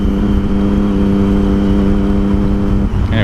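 A Triumph Daytona 675 sport motorcycle engine drones steadily and loudly while being ridden, holding a constant note before a brief shift near the end.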